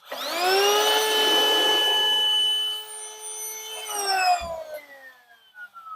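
A small electric air blower bought from AliExpress powers up with a loud rising whine and holds a steady, strong roar for nearly three seconds before spinning down, followed by faint handling noises.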